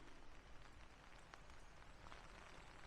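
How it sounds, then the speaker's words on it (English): Heavy rain pours down outside a campervan parked in a Scottish forest, a steady, dense hiss of drops drumming without pause, faint and muffled as if heard from inside. "I've just stepped into the camper to get out of that rain. It's absolutely chucking it down out there."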